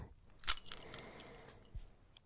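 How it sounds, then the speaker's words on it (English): Keys jangle as they are picked up from a table, a quick metallic rattle followed by a few lighter clinks, close and fairly faint in a quiet room. "Keys. Where are my keys?"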